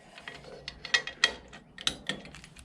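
A wrench clicks sharply while tightening bolts on a Volkswagen Type 1 engine during a rear main seal replacement. About half a dozen short, close ratchet-like clicks come at irregular intervals over a quiet background.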